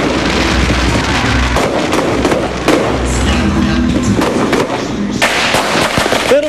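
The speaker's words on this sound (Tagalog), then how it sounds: "para panoorin ang magarbong fireworks display" Steady crackling and popping of a fireworks display at a mall in Lipa, with dense bursts and sharp bangs over a continuous rumble, loud and nearby.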